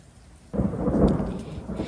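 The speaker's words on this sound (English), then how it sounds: "Oh, it's thundering." Thunder rolls in a rainy scene of the video game Cozvr, a sudden low rumble that starts abruptly and sustains loudly with rain-like hiss throughout.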